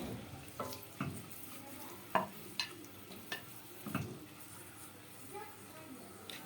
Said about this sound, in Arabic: مع التقليب المستمر هنبتدي نحمر البصلة